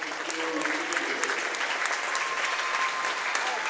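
A gym crowd at a boys' high school basketball game claps steadily for the seniors, dense continuous applause filling the room with faint voices mixed in.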